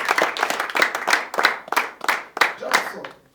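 A church congregation claps for God in a strong rhythmic beat, sharp bursts of many hands in regular pulses, slowing and fading out at the end.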